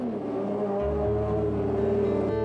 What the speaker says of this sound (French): cette fabuleuse moto engagée en championnat du monde